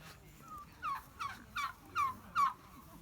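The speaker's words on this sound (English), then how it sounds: "Oh, they are turkeys." Turkeys gobbling outdoors, five quick warbling calls in a row at moderate distance, rising and falling over faint background noise, no talking.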